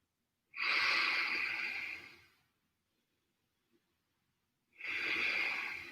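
Two long, audible exhales during a shoulder roll stretch, close and breathy, separated by a couple of seconds of near silence.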